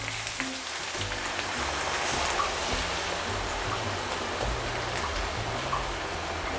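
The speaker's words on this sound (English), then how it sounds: "1 cup of water going in." A cup of water pours into a pan of braising Korean soy potatoes, making a steady rushing, sizzling splash that continues evenly throughout without any talk.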